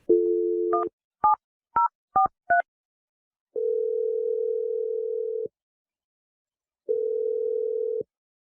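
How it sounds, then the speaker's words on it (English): A telephone line plays a steady dial tone, then five quick touch-tone beeps as a number is dialed, followed by two long ringback tones separated by silence, loud and clear with no voices. "I'm going to dial the number right now."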